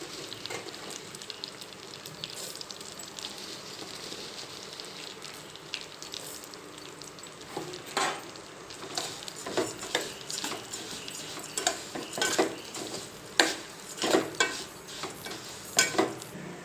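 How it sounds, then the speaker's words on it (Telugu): Vermicelli (semiya) roasting in ghee in a pan for semiya payasam, a soft steady sizzle with scraping stir strokes that grow busier and louder in the second half. "ఫస్ట్ నెయ్యి వేసుకొని మంచిగా సేమియా నించుకుందాము"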